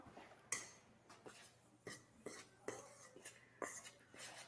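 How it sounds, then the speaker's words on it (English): Semolina and flour being mixed together in a bowl for Turkish nut cookies, heard as soft, irregular clinks and scrapes of a utensil against the bowl, fairly quiet and close, with no talking. "I like to mix the semolina with the flour"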